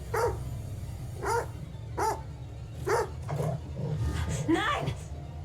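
A dog in a video game barks in repeated loud, evenly spaced barks, around five in quick succession, with a busier burst of barking at the end over a low background rumble.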